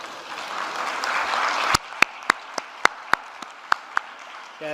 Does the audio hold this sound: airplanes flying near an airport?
no